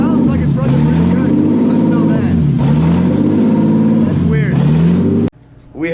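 A BMW M50 straight-six installed in an E30 chassis runs with no exhaust fitted, loud and raw with uneven revving as if from a vacuum leak, then cuts off abruptly near the end; a voice talks over it.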